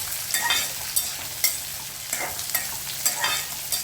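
Chopped green chillies and shallots sautéing in a pan, a continuous close sizzle broken by regular scraping stirs of a spoon, with no voices heard.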